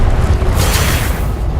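Loud deep rumbling blast from the Confringo fire spell in Hogwarts Legacy, a single close explosion with a broad roaring burst that holds through the moment.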